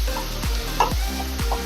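Ingredients fry in hot mustard oil with a close, steady sizzle, while a pan is shaken or stirred in a regular scraping rhythm about every half second.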